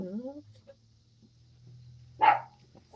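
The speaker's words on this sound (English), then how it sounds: "Uh-oh, there goes the dogs." Dogs in a house let out one short, loud bark near the end after a brief whimper-like sound at the start, indoors and fairly close.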